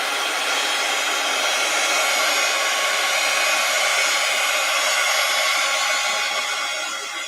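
A hair dryer blows steadily and close up for about seven seconds to dry a freshly glued page of an art journal made from a bank book. Its whirring hiss stays even and alone, then eases slightly at the end.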